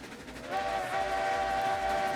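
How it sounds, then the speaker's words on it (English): A train whistle sounds, a sustained tonal blast rising in over a low rumble of rolling wagons, steady and fairly close. "Where's that whistle coming from?"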